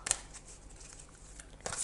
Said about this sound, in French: je vais tirer une dernière carte de l'âme des arbres